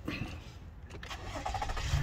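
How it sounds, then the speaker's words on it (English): A car engine cranking and catching, short and moderately close, with a brief rumble rising toward the end. "I'm gonna start the car"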